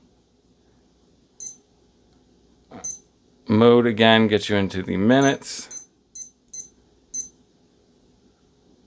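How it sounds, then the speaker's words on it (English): Timex T80 Pac-Man digital watch giving short, high electronic beeps: one beep, then a double beep, speech, then three more evenly spaced beeps, close and clear, with someone talking through the middle. "You can disable the beep, but who wants to do that?"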